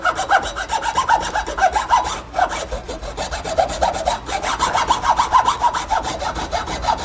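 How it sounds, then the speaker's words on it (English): A dull hacksaw cuts through a metal part during a bike build, a close, loud rasp of rapid back-and-forth strokes with one short pause. "Handy dandy hacksaw. I'm going to cut one of these off."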